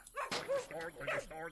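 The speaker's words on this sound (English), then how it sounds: "He's just a simple dog." A dog in the video game Mongrel gives a quick run of short yipping barks and whimpers, close and fairly quiet, bunched into about a second and a half.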